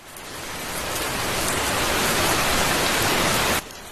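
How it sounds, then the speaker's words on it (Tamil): Steady rain hiss swells in over the first second, holds as a dense, even wash, then cuts off abruptly near the end. "மழை பெய்யும்,"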